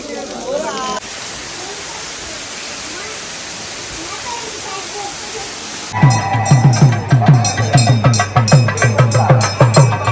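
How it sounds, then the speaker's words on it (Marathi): Water pours steadily from a spout at a temple site near Tirupati, a broad continuous rushing splash, then voices talk loudly over it in the second half. "पाणी बघा ना वरतून येतो मुखातून"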